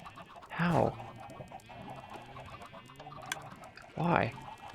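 A baby chicken in the Minecraft video game clucks in two short, loud bursts a few seconds apart, with softer sounds and faint voice-like murmuring between them.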